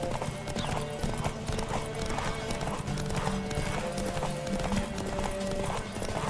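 Rapid, continuous hoofbeats from a racing horse in The Witcher 3 pound close and loud throughout, with a brief whinny-like sound mixed in.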